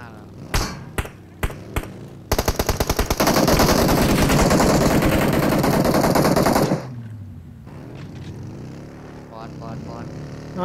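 Gunfire in PUBG Mobile: a few sharp single shots, then a long sustained burst of rapid automatic fire, loud and dense, giving way to engine and vehicle noise with voices talking.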